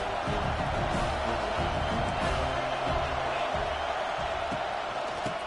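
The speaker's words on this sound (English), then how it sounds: "Big third down as the crowd gets behind this defense." A football stadium crowd cheers and roars on third down in a Washington versus USC game, a dense, sustained wall of noise with scattered whoops throughout.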